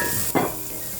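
Garlic and ginger hit hot oil in a frying pan, giving a steady bright sizzle with a sudden louder hiss and splatter as the ginger drops in, close up and without talking.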